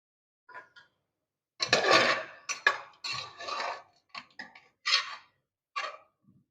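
Mutton goes into a pot of thick gravy with a string of clattering metal scrapes and knocks from spoon and vessel, coming in short bursts separated by silence.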